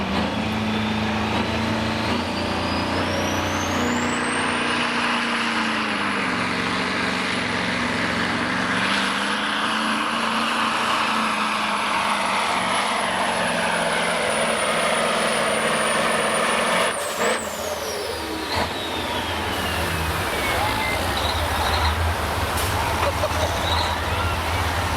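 A Mack B8 truck engine drones loud and steady through a truck pull, a long sustained roar with a rising whine that holds high before dropping away near the end.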